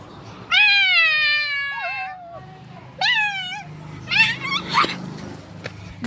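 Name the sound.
cat meowing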